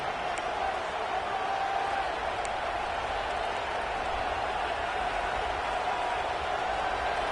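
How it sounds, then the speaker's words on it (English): A Texas A&M at Auburn college football stadium crowd, a sustained loud roar of cheering that stays steady for several seconds. "This crowd ready to make its presence known"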